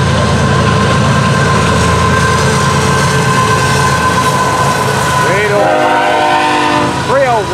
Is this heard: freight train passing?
yes